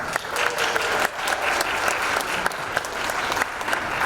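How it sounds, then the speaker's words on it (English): Steady applause from a museum audience at a talk, dense clapping held at an even level for about four seconds with no voices on top. "Let's give Dee Dee a big round of applause"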